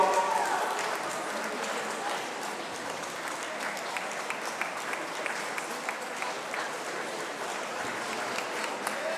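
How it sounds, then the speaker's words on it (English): A crowd at a regional swimming championship cheers and applauds a Para swimmer in his final metres, a continuous, dense wash of noise echoing through the pool hall at a steady, fairly loud level. "keep that noise going, keep cheering him on."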